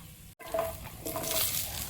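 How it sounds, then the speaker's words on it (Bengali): Black cumin (kalo jeere) seeds fry in hot oil as a tempering, with a close sizzle and stirring scrapes that swell after a brief silent gap near the start. "দিয়ে কালো জিরে ফোড়ন দিয়ে একটু ভেজে নিচ্ছি।"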